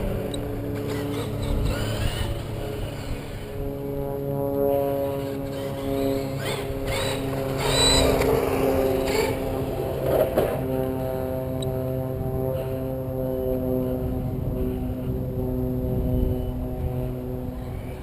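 Traxxas E-Maxx RC monster truck with a 1500Kv brushless motor on 6S power, a loud steady electric motor whine with strong tonal harmonics rising and falling as it runs, close by and continuous throughout.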